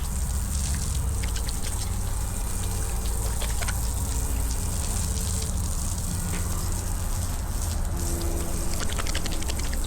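Water runs from an outdoor shower, a continuous hiss and patter of spray falling onto a surface, with scattered drips and splashes standing out close by.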